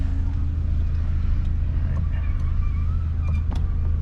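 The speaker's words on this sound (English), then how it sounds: "Listen to that car." A race car engine runs steadily at Lime Rock, a deep continuous rumble with a low harmonic drone throughout, close and loud, with faint rising whine tones and a few brief clicks near the end.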